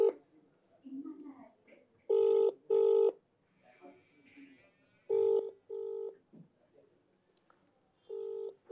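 Ringback tones from a phone call placed on speakerphone repeat in steady paired pulses, with soft talk and room noise between them.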